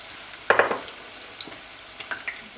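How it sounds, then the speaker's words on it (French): Fritto misto seafood pieces crackle in hot oil, a short burst of sizzling spatters near the start and then fainter scattered pops, quiet and close. "ça fait un joli bruit de cuisson"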